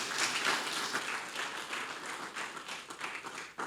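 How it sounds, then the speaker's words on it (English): Seminar audience applause at a legal event, a dense, even wash of many hands clapping that holds steady at moderate volume throughout before tapering slightly at the end. "Another round of applause, please."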